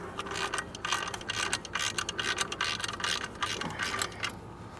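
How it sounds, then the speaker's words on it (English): A ratchet wrench tightens bolts on the undercarriage of a 1965 Ford Mustang, giving rapid, continuous close-up clicking from the pawl through the whole stretch with no talk. "we're just going to zip these down and torque them to 38 foot-pounds"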